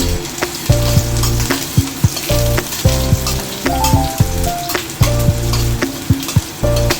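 Ginger and onion sizzle in hot oil for a zucchini and pork stir fry, a steady loud crackle broken by repeated sharp clanks and scrapes of a spatula stirring in the pan, no talking.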